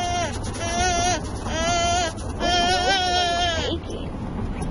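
A goat bleats three times in a row, each call a wavering, drawn-out cry lasting nearly a second, close and loud, with people talking faintly in the background.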